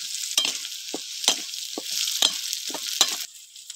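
Bay leaves and green chilies dropped into hot oil in a pan, giving a bright steady sizzle with several short bursts and spatters as pieces hit the oil, loud and close, with no talking.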